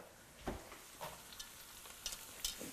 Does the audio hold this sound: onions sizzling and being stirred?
yes